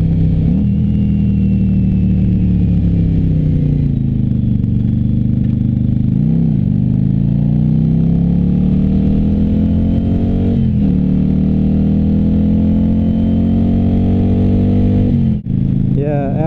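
Loud, close rumble of a Yamaha Virago 750 motorcycle engine on a ride, its pitch dropping and rising as it downshifts through a couple of gears, with steady wind noise throughout.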